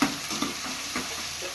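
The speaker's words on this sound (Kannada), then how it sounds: "ಆಮೇಲೆ ಸಣ್ಣಗೆ ಹೆಚ್ಚಿಟ್ಟಂತಹ ಅಡ್ಲಕಾಯಿನ ಹಾಕ್ಕೊಂಡು ಇಷ್ಟನ್ನು ಸ್ವಲ್ಪ ಫ್ರೈ ಮಾಡ್ಕೊಳ್ಳಿ" Finely chopped ivy gourd sizzles in a hot pan while a spoon stirs through it, a steady frying hiss with a few soft scraping strokes, close and moderately loud.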